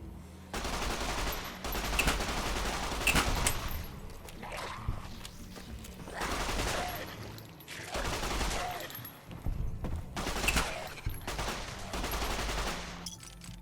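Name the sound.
automatic weapon gunfire in the video game Fallout: New Vegas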